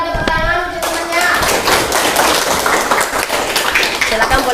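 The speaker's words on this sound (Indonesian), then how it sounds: "Bisa berikan tepuk tangan untuk temannya." Classroom applause for a student, a dense burst of many hands clapping close by that starts abruptly and continues steadily, with children's voices mixed underneath.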